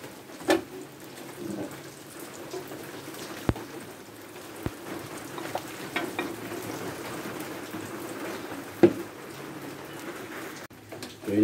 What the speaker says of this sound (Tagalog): Ulan ngayon mga kapatid, yung sa inyo, ulan din.